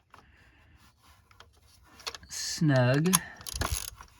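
Ratchet turning a spark plug snug on a 2000 Ford Crown Victoria police interceptor, a short burst of clicking mechanical strokes close by, with brief speech in the clip.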